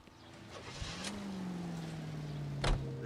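Car engine in the L.A. Noire video game droning steadily with a rising then level pitch, a soft thump near the start and a sharp knock toward the end, no talk.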